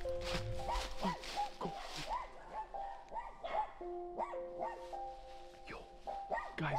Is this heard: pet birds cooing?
no